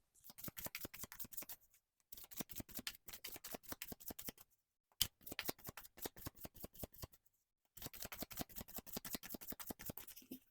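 Tarot cards are shuffled and handled in several quick bursts of rapid, crisp riffling, separated by short pauses, close and quiet, with no talking.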